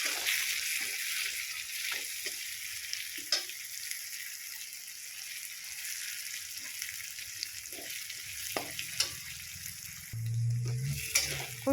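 Spice paste with a little tomato paste being sautéed in oil for a rui fish curry, giving a steady soft sizzle with occasional scraping stirs and a louder burst near the end, no talking.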